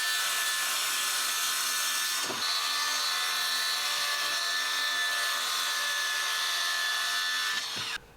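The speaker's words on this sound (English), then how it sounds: "So I'm using my cutting table again. This time I've taken the legs off so I can just use it on the floor, and the track saw to get it cut to size." A track saw cuts a 9mm MDF board on the floor, a loud sustained buzzing rip lasting several seconds with a brief dip partway through before the motor winds down.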